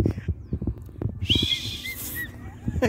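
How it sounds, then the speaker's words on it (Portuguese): A referee's whistle blown during a casual kids' football game, a shrill sustained blast lasting about a second with a short trailing chirp, heard over thumping and background noise from the play. "Esse apito meu foi muito bom"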